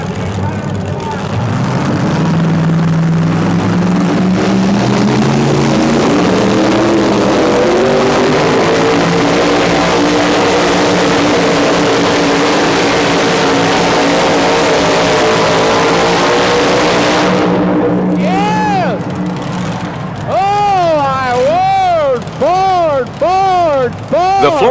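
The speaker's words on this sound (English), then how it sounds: "he's determined to run his supercharged Ford out of the arena" A supercharged Ford pulling-truck engine roars loud and steady in an arena, climbing in pitch across a long pull. It fades into crowd noise and a commentator's voice, with shrill whistling near the end.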